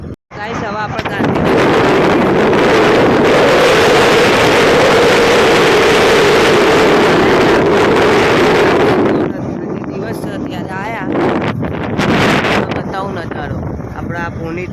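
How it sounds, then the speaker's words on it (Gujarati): Strong wind buffets the microphone along a road near the Sabarmati River toward Gandhinagar, a loud, rough roar that holds steady, then eases into gustier bursts. "પવન છે"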